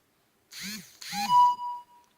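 A phone notification ding rings out as a single clear tone that lingers and fades, following two short vocal sounds, during a crochet session making a cup cozy.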